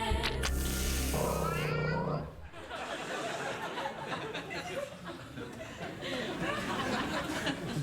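A cat on a late-night talk show set lets out drawn-out, warbling meows near the start, followed by audience laughter and chatter.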